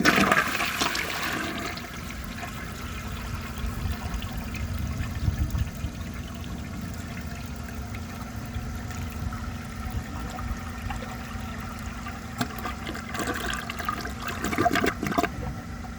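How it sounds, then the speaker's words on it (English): A 1948 Crane Drexel toilet flushes with a dry bowl, a steady rushing of water that runs throughout and ends in a gurgling siphon near the close, heard alone. "I think with a dry bowl, this should flush pretty normally"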